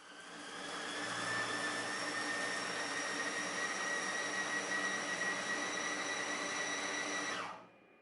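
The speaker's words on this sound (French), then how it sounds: "Choisissons la fonction hacher. Le temps est de 10 secondes, la température de 0 et la vitesse de 6." A Compact Cook Elite multicooker runs its chopping function on mushrooms at speed 6, a steady loud whirring motor drone lasting about seven seconds before spinning down abruptly, with no talking over it.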